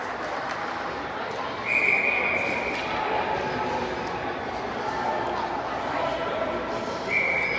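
A referee's whistle at an ice hockey game gives two brief, thin shrill blasts. Both sit faint under steady arena crowd noise and ongoing play-by-play commentary.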